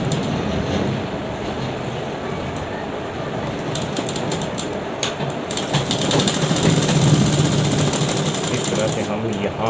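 A tailor's sewing machine runs steadily, stitching a cross pocket on a pair of trousers with a continuous whirring, mechanical hum that stays up close and loud throughout.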